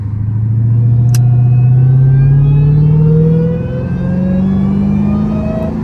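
A Dodge Hellcat engine revs hard while driving at night, its deep rising roar climbing steadily, easing briefly, then building again, loud and close with no talking.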